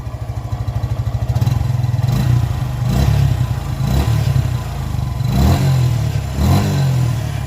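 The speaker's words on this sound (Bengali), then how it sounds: "ফিল্টার চেঞ্জ করে ফেলছি, এবার আপনাদেরকে এক্সজস্টের সাউন্ড একটু শোনাই" A Suzuki motorcycle with a freshly changed air filter idles with a steady, close exhaust putter, then revs up repeatedly in several throttle blips before settling back.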